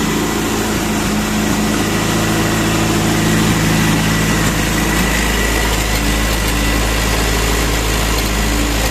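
Idling 2007 Subaru Legacy BP5 with the EJ20X engine, a loud, steady, even hum and rumble that holds unchanged for nearly nine seconds with no voices.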